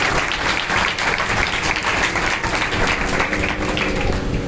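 Loud, sustained applause from a church congregation celebrating Father's Day, a dense wash of clapping that fills the whole stretch without a break.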